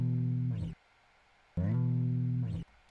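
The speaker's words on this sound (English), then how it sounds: "So for example, there's that classic bass slide in there." Two bass notes sliding, played dry with no effects in a modern electronic track, each a sustained low tone about a second long with a short pitch glide at the end, separated by a gap of silence.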